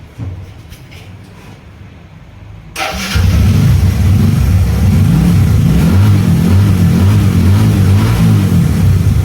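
A Bajaj V15 motorcycle engine cranks and catches, then settles into a steady, loud idle with a rhythmic putter that runs to the end.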